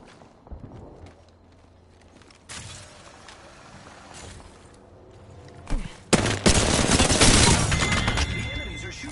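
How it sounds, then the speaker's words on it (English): Enemy gunfire in the video game Apex Legends, bursts of shots building from quieter scattered fire into a loud, dense barrage near the end, with footstep-like clatter mixed in. "The enemies are shooting at me."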